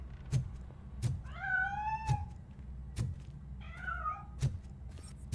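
A cat meows twice in the video game Robocop: Rogue City, two drawn-out, fairly close cries set among regular dull thumping footsteps, with no talk.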